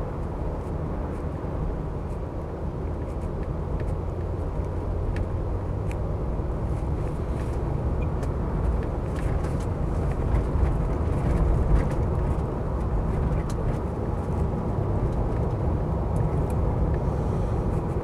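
A Land Rover Discovery 3 running on LPG with an automatic gearbox travels slowly along a road, giving a steady, continuous low rumble of engine and road noise throughout, with no voices over it.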